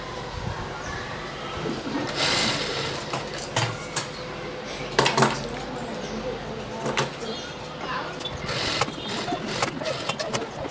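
Sewing machine stitching around the round neck of a full-sleeve gown: a steady motor hum with rhythmic clattering, close and fairly loud, running continuously with a few sharper knocks along the way.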